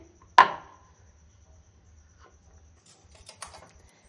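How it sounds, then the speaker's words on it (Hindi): A knife cuts down through filled wheat-flour paratha dough from the center with one sharp, close thud on the board, followed by a few faint light taps in quiet. "फिलिंग रखने के बाद हम सेंटर से कट करेंगे इस तरह से"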